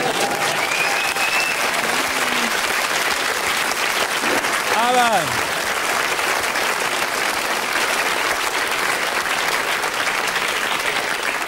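A studio audience at a TV talk show claps loudly and steadily after a magic trick with a bottle, with a few voices and cheers rising briefly over the applause.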